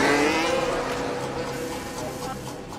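A Formula 1 car runs flat-out in qualifying on the Baku street circuit, its high engine whine loud and continuous, with a roaring onset that eases slightly into a sustained buzzing note.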